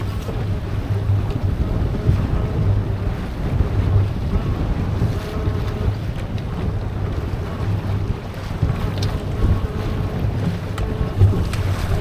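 Steady, loud wind buffets the microphone aboard a sailboat heading through a passage around a remote island, with a continuous low boat drone and wash of water beneath, no talking.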